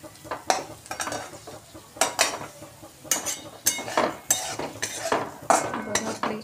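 Garam masala being stirred into hot oil with a metal spoon: repeated loud scraping and clinking strokes against the pan in uneven bursts over a faint sizzle, close up, with no voices.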